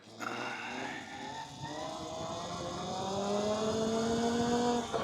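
A SurRon electric dirt bike pulls a wheelie, its electric motor whine rising steadily in pitch over a rough rolling rumble, close and continuous.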